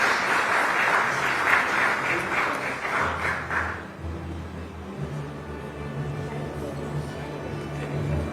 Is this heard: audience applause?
yes